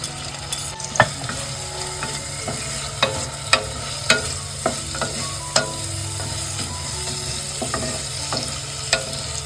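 Onion and ginger-garlic paste with curry leaves sautéing in a clay pot, a continuous soft sizzle punctuated by regular clinking scrapes of a spatula against the pot, near and unaccompanied by speech.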